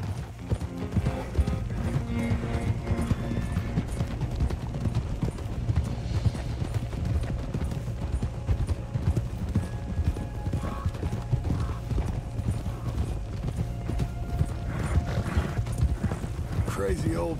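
Steady, rhythmic hoofbeats of a horse in Red Dead Redemption 2 clip-clop throughout over a droning background, with occasional faint mechanical clicks.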